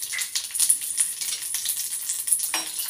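Green chillies dropped into hot oil with mustard and fenugreek seeds, crackling and spitting in quick irregular pops over a bright close sizzle.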